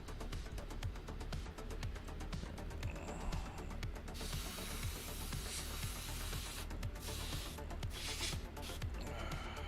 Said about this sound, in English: Give me the last few drops of your children, airbrush.